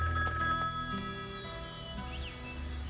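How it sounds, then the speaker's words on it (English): A payphone rings close by, its bright electronic trill sounding in a short burst and then fading, with no one speaking. "It's just a payphone, sir."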